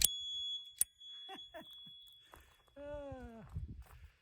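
A bicycle bell on a Hanevear H100 AWD e-bike gives a bright ring that lingers for about two seconds, with a sharp extra strike partway through. It is followed by a brief, lower tonal sound, all heard close up outdoors.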